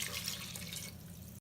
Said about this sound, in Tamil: 1 கப் அரிசிக்கு 2 கப் தண்ணி ஊற்றிக்கோங்க.